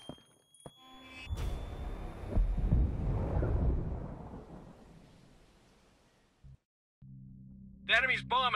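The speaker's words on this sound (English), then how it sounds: "Enemy's bomb has gone off." A bomb goes off in Ghost Recon Breakpoint PvP, a deep rolling blast that swells and then fades slowly over several seconds, followed by game interface tones and a voice.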